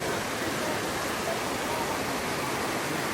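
Little Mashel River waterfall in Washington, a dense, constant roar of falling water filling the whole scene evenly and loudly, with no breaks or other sounds standing out.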